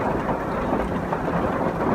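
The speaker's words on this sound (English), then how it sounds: "It's raining pretty hard" Heavy rain falling as a dense, steady, loud broadband roar with no break, heard from inside a parked van at night.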